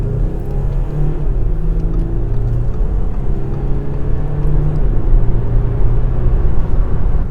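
An Audi A6 estate with a diesel engine and quattro drive accelerates in sport mode, giving a loud, steady, close engine drone with deep rumble and a slowly rising hum, with no talking.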